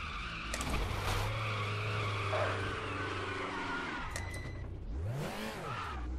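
A race car drifts in the RaceRoom racing video game, its tires skidding and squealing loudly over a steady engine drone, then the engine revs up and falls sharply near the end.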